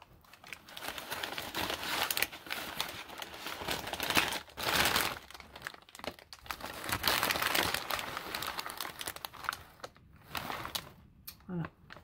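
Close, continuous crinkling and rustling of paper with brief pauses, sometimes sharper crackles, heard on its own.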